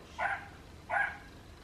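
Dog barking: two short, evenly spaced barks, fairly close and moderately loud, over a quiet background with no talking.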